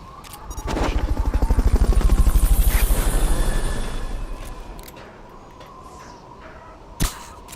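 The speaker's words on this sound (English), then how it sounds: "Fulton recovery helicopter" Fulton recovery helicopter in the video game Metal Gear Solid Peace Walker, a loud rhythmic rotor thumping that swells, then fades over several seconds, followed by a sharp crack near the end.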